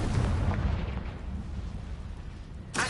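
Confringo spell blast in Hogwarts Legacy, a dull booming burst that fades over a couple of seconds, followed by a sharp short crack near the end, moderately loud with no talk.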